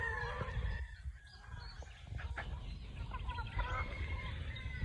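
Pullets, hens and stags in a poultry yard cluck and call over a steady background murmur, with several overlapping squawks and a crow-like cry, fairly faint.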